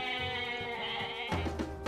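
A sheep in Age of Mythology gives a sustained nasal bleat, then a second, lower and louder bleat starts just before the end, close and clear without any speech.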